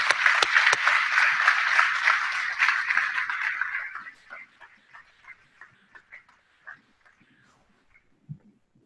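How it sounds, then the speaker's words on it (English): Applause from the audience at a red raspberry industry annual meeting, dense and loud at first, then thinning over several seconds into scattered, separate claps that die away. "a round of applause for this good group of people"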